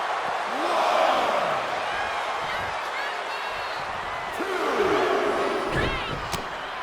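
A crowd roars as constant arena ambience in the WWE 2K25 wrestling game during a Naomi showcase match, under an announcer's steady commentary, with thuds and impacts breaking through.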